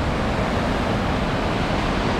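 Cascade Falls, a roadside waterfall in Glacier National Park, gives a steady, broad rushing roar of falling water with no pauses and no voices.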